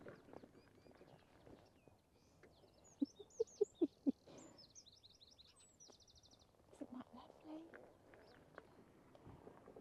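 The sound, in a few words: birds singing on Cornwall coast walk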